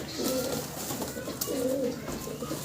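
Sirazi pigeons, a fancy breed, give soft rounded coos in two short bursts, fairly faint against a light background hiss.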